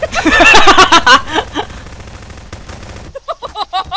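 Gunfire in the video game Garry's Mod Prop Hunt: loud, rapid automatic bursts crowd the first second and a half, then thinner scattered shots follow, with voices talking over the last part.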